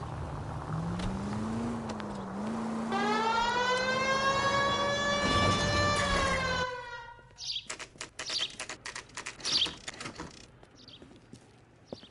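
A police car siren in the video game LA Noire wails in a steady rising and falling tone for about six seconds over low engine hum, then cuts off, leaving scattered clicks and knocks.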